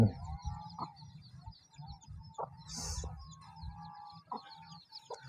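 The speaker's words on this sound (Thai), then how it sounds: "ไก่เมลูกอ่อนกำลังพาลูกเคียกินเหยื่ออยู่พี่น้อง" Free-range mother hen foraging in the evening with her chicks, giving soft, irregular clucks close by against quiet outdoor background noise.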